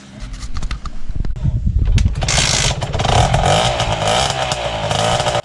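A heavily tuned moped engine making about 20 horsepower revs hard, a loud, close, buzzing drone that climbs in pitch and stays high for several seconds.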